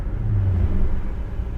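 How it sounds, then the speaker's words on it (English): A 1969 Chevrolet SS V8 engine idling around 800 RPM, a steady low rumble close by with no other sounds. "it's idling about 800 RPMs"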